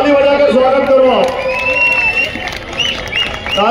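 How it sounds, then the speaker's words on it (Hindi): A crowd at a Madhya Pradesh bodybuilding championship event in Indore bursts into loud, sustained clapping and cheering, with an announcer's amplified voice ringing over the applause throughout. "जोरदार ताली बजाकर स्वागत करो आप"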